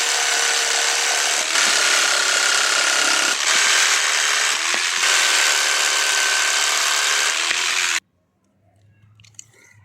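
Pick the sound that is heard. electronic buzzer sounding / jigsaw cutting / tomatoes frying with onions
jigsaw cutting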